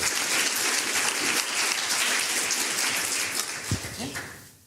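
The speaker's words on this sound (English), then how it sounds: "Another round of applause for Professor Dr. Salins" A conference audience at a sustainable AI event applauds in a steady, dense burst that fades near the end, with a brief voice cutting through the clapping.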